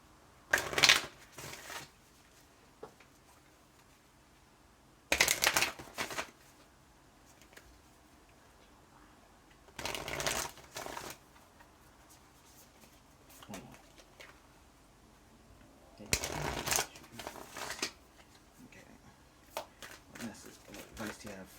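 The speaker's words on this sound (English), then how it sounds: "Let's get some Moonology cards." Moonology oracle cards are shuffled by hand in several separate bursts of brisk riffling and flapping, each lasting a second or two, with quiet gaps between.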